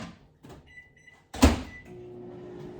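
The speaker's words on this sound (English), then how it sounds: "now I'm gonna go ahead and put our white chocolate chips in the microwave" A microwave oven is loaded with white chocolate chips and its door shut with one sharp thud, preceded by soft handling knocks and followed by a low steady hum.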